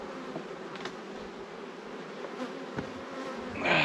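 Honey bees buzzing around a beehive holding heavy honey-filled upper boxes, a dense continuous drone close by with a few individual bees passing near and a brief louder rustle at the end.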